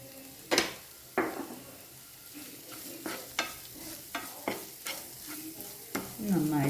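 Fish masala for Kannur-style neymeen mappas is stirred in a sizzling pan, with a steady fry hiss broken by a series of sharp scraping spoon strokes at irregular intervals.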